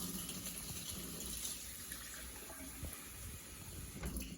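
Warm water runs steadily from a tap into a measuring cup, making a soft, continuous rushing splash heard close up at low volume with no talking.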